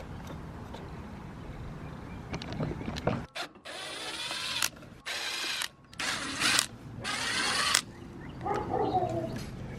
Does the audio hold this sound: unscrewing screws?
yes